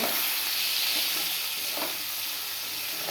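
Nigella seeds and dried chillies sizzle in hot oil with a steady, loud, close hiss and faint crackling, broken now and then by light stirring.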